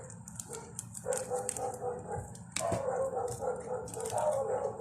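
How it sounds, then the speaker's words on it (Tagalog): Several dogs bark and yip in the background of a home kitchen, fairly faint and distant, in irregular bursts with a louder stretch toward the end. "maingay yung mga aso"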